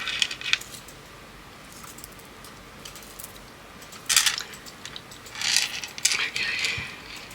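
Beads on a spinner-made bracelet clink as the bracelet is stretched, giving a few short bursts of light clicking and rattling over quiet background, the busiest bursts coming near the end.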